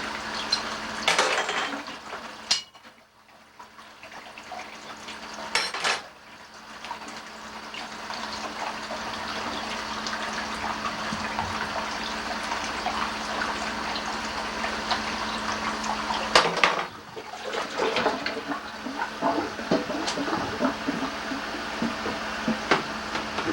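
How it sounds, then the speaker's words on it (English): A pan is washed out under running water at a sink, with a steady stream of water broken by a few sharp clanks of metal against the basin, heard alone without talking. "Get your pan washed out right away, it wash easily."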